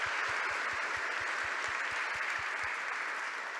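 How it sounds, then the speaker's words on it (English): Sustained audience applause at a hackathon closing ceremony, a dense steady wash of clapping from a crowd filling the whole stretch, with a rhythmic low thumping beat underneath for most of it. "So big round of applause for everyone,"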